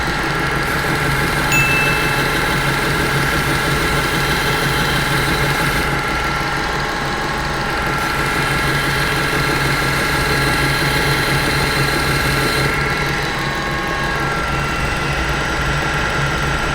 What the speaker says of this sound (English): And this is the felt polishing belt.